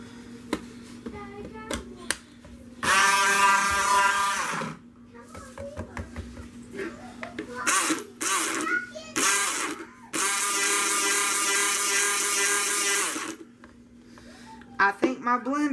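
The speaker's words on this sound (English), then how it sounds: "I think my blender just died on me" A blender whirs in loud bursts that start and stop repeatedly, straining and sputtering between runs as it fails while mixing cream and fragrance for cold process soap, with clicks, handling noise and brief talk.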